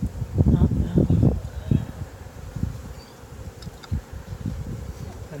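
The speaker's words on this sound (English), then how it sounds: "You can see how many bees are in there." Honey bees buzz close by at an open hive during an inspection, with loud low humming bursts and murmuring that may include muffled voices.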